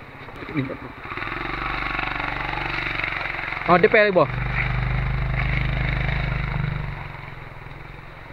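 An off-road motorcycle rides through rain; its engine drones steadily and fairly close, with voices talking over it.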